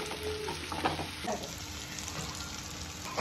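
Onions fry in a pan as a soft, steady sizzle close by, with light scraping from stirring and faint household background noise.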